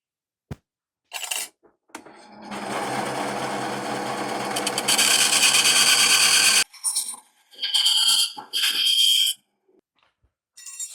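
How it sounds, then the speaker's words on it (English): A bandsaw cuts silver for a pendant, with a steady motor whine and cutting buzz running for about four seconds, followed by a few short clinks and handling noises in a quiet workshop. "Actually, I'm going to take this to the bandsaw."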